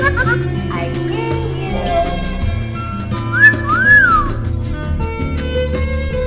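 A heart-shaped parrot toy with voice recording plays back a recorded whistle, two rising and falling whistle tones standing out mid-clip over busy background music and sound.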